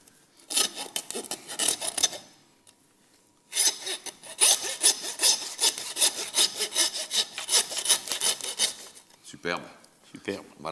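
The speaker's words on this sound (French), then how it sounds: "On ne scie que l'os." A handsaw cuts through pig bone during primary butchery of a pork carcass, rasping in steady back-and-forth strokes, pausing briefly, then resuming with a longer run of close, loud strokes.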